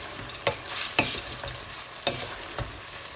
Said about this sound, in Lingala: Ngo wana mbinzo na biso ezokalingama na mafuta ya l'huile d'olive.